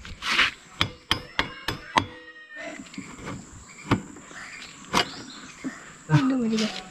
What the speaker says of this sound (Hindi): तो इसका एक्सल का भी रिमूव हो गया, काफ़ी ज़्यादा टाइट था ये, एक्सेल को निकाल देते हैं अभी